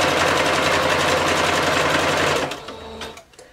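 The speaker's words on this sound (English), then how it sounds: "you're just going to begin to sew that seam together." A sewing machine stitches a bodysuit seam in a loud, fast, close-up run, then slows and stops after about two and a half seconds, leaving a few light clicks and taps.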